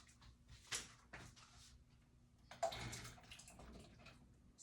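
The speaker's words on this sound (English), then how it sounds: "Okay, so I'm gonna put the potatoes in the water." Potatoes dropped one after another into a pot of water in a home kitchen, giving soft, faint plops and splashes at a few separate moments against a quiet background.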